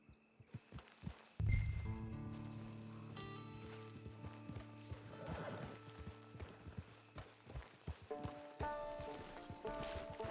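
Horse hooves clip-clopping at a steady walk in the Red Dead Redemption 2 video game, close and clear over sustained music, with a brief whinny and occasional thunks.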